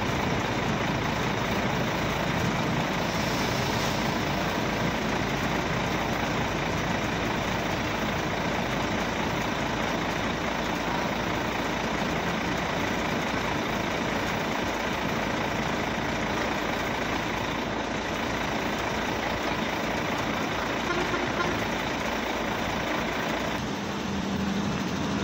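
An intercity bus engine idles with a low, steady diesel rumble at night, continuous and unchanging, heard from nearby with no talking.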